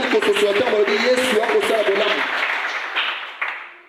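Church congregation clapping and cheering together, a dense wash of applause that swells loudly, mixed with voices and a sustained musical tone underneath, then gradually tapers off.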